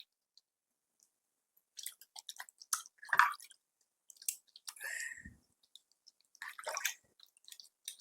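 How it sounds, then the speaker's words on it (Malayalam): A face pack for dark spots and pigmentation being washed off the skin with water: close, soft splashing and wet squishy rubbing in short irregular bursts, with quiet gaps between them. "ഞാനിപ്പം കഴുകുകയാണ്."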